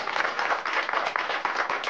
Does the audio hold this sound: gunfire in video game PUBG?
no